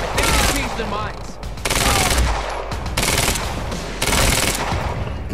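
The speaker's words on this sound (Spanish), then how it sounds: "Why are they still shooting?" Sustained automatic gunfire in Quantum Break during a library chase, loud rapid bursts coming in three long waves with brief lulls between, layered with background effects.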